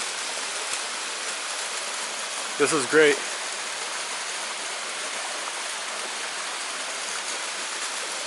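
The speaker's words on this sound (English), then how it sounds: "right here there's a really tall, beautiful waterfall" A tall waterfall in the San Gabriel Mountains, near the historic Allison gold mine, pours with a constant rushing roar, while a voice briefly speaks partway through.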